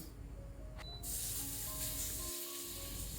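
A sudden hiss as cumin seeds and bay leaves hit hot oil in a wok, then a continuous close sizzle, with a faint tone in the background.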